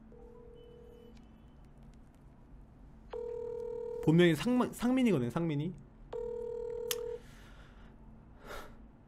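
A telephone dials and rings during a prank call. Steady electronic tones sound close on the line, in repeated bursts, with someone talking briefly in the middle.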